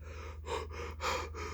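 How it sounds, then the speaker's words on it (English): Loud, close breathing from a man doing nail art, with two heavier breaths standing out over a steady low electrical hum, and no talking. "Stop breathing so loud."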